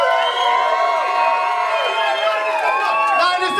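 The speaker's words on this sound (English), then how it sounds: "Everyone, round of applause." Wedding guests cheer loudly with sustained whoops and shouts, a dense crowd of voices close by throughout the short moment.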